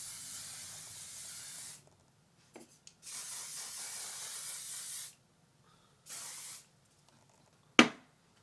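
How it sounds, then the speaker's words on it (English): An aerosol can of flexible holding hair spray hisses in three bursts, two longer and one short, separated by quiet gaps, followed by a sharp click near the end. "Their flexible holding spray."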